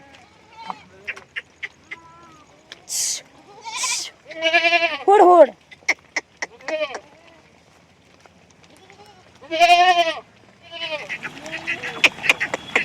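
A flock of sheep out in heavy rain on a muddy, flooded path bleats in several loud, wavering calls, mixed with a herder's shouted calls and nearby voices.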